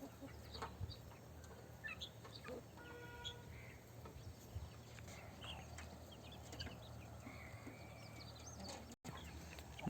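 Country chickens cluck and call at a farm outdoors, with scattered short calls over a steady low background hum and rustle, fairly close, no talking.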